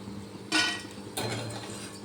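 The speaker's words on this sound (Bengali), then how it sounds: "এবার আমি একটা ঝাঁঝরি দিয়ে তেল ঝরিয়ে তুলে নিচ্ছি" Fried pieces of a flour batter sweet being lifted out of hot oil with a slotted metal spoon, two distinct metallic scrapes and clinks against the pan over faint background hiss.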